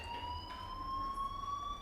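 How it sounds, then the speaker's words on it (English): A fire alarm in the video game Life Is Strange rings as a steady, continuous electronic tone with a slight rising pitch, holding at an even level throughout with no voices over it. "that fire alarm? That means you should be outside."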